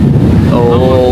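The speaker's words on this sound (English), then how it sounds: "It really is picking up. It's so windy." Strong storm wind gusts across the microphone outdoors at a theme park, a steady loud roar with buffeting throughout, voices faintly present beneath it.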